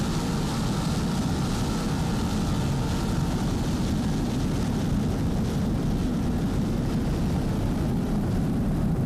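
Team Virgin's racing powerboat, with twin 750 horsepower Mercury inboard engines, gives a continuous loud throaty roar that holds steady throughout the long stretch without speech.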